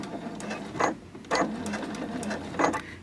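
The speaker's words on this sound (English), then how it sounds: "And I'm going to stitch forward a few stitches and then backwards a few" Sewing machine running short bursts of stitches forward and then in reverse on a boxy zippered bag, three or four close mechanical whirring runs separated by brief pauses.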